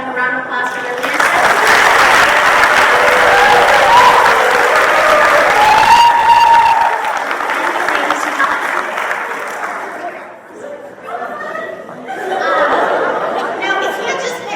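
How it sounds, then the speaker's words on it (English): Audience applause at an education training event, a sustained loud burst of clapping from a crowd with chatter and some laughter mixed in, tapering off near the end. "Again, I would like to just have everyone give them a round of applause for their leadership"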